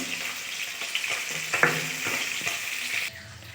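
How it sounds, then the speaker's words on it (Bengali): Tengra fish fry in hot oil in a wok with a continuous close sizzle, broken by a few scraping stirs and clinks of a utensil before the sound drops off near the end. "বাকি যে মাছগুলো ছিল সেগুলোও কড়াইয়ের মধ্যে দিয়ে দিয়েছি, ভেজে নামিয়ে নেব"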